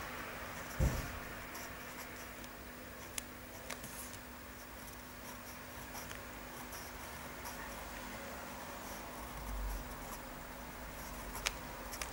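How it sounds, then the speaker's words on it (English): A Marlen Aleph fountain pen writes on paper, a quiet steady scratching over a low hum, broken by a few soft taps and knocks. "I am definitely enjoying using this pen."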